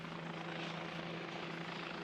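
Helicopters flying overhead, a continuous whirring rotor drone with a steady low hum, moderately distant and fairly faint, no voices.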